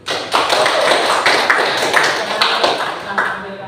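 A classroom group claps together in a dense, steady patter of many hands that carries loudly for several seconds before tapering off.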